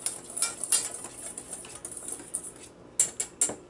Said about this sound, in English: So we're whisking this up a little bit to get that all mixed in.